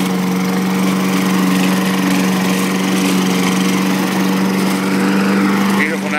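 Riding lawn mower mowing in Anthony, Iowa, a loud steady engine drone with a strong constant hum, close and continuous, with someone talking over it.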